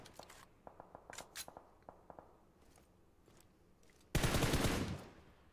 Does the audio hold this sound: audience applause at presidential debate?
no